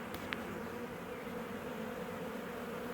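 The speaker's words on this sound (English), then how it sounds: "The noise of the fanning, they're all saying this is the spot to come." Honeybees from a swarm fanning their wings at a new hive spot: a dense, steady hum of many bees, close and continuous, with a couple of brief higher buzzes of single bees passing near.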